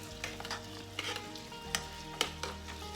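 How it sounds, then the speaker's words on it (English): Elderberries with whole cloves and ginger are stirred in a pot, giving soft scraping and a few sharp spoon clicks against the pot over a low steady hum, with no talking. "Just give this a stir."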